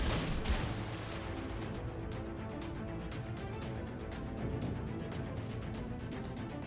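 In World of Warships, a Black tier 9 US destroyer's naval guns fire in dense, rapid booms and cracks. The shots pile into a near-continuous barrage that stays loud and close throughout, with no talk over it.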